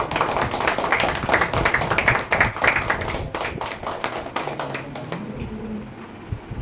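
An audience clapping loudly at a mobile repairing course batch-ending program, a dense burst of many hands that stays strong, then thins into scattered claps toward the end.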